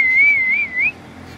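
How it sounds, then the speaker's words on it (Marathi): A bird calls beside the Nira river with a single clear, wavering whistled note lasting under a second, fairly close, followed by quiet background. "असे पक्षी आहेत आणि आवाज करत आहेत"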